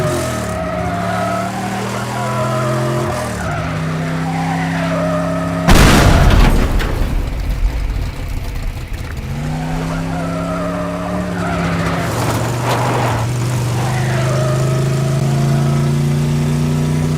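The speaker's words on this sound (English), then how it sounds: "I just hit a tree." Car skidding and crashing into a tree in the Teardown video game: a long tire screech and engine whine end in a sudden loud crunching impact, then the engine drones and revs on, with a voice talking briefly.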